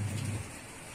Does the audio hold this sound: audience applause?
no